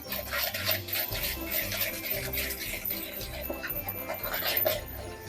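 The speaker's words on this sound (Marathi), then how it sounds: "आता आपण साखर चांगली एकजीव करून घेणार आहोत।" Sugar is stirred and mixed by hand in a bowl for a Christmas cake, giving a continuous gritty scraping and rubbing sound in a quick, uneven rhythm with no voices.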